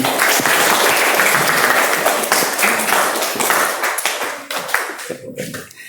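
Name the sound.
classroom applause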